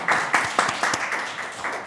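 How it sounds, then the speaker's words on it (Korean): Audience at a policy forum giving a round of applause: a steady run of moderately loud, evenly paced claps that fades slightly toward the end, with no talking. "다시 한번 박수 부탁드립니다."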